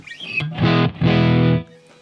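A clean, undistorted electric guitar plays two sustained chords, dry and clear with no echo, ringing out and then fading.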